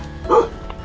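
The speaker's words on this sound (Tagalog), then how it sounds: "Oh, may aso." One short bark from a dog outdoors on a village path, brief and moderately close, with faint background noise around it.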